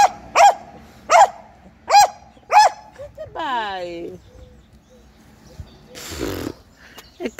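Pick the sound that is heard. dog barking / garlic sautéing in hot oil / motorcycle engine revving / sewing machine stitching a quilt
dog barking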